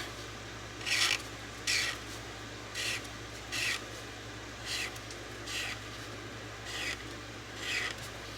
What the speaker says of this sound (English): It is so much faster coloring with the chisel tip